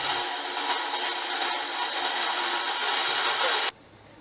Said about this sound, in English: move to the bandsaw to trim the parts for the clamp pieces